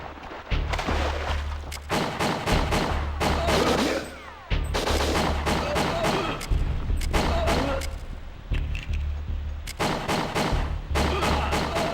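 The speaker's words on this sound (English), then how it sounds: "Gunfire, while not real-life accurate, all have loud, clear sounds to make every shot legible." Rapid bursts of gunfire from the Nintendo 64 game WinBack crack repeatedly with heavy low thumps, loud and close, separated by brief pauses.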